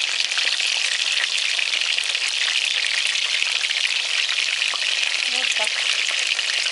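Cabbage rolls fry in hot oil in a pan, giving a steady, dense sizzle and crackle that runs evenly from start to finish, with faint scattered pops and no talking.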